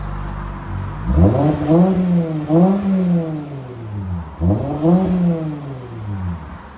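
A 2023 Lexus IS 350 with a 3.5L V6 and Flowmaster Flow FX exhaust revs repeatedly nearby, three strong rising-and-falling blips over a steady idle, loud and alone.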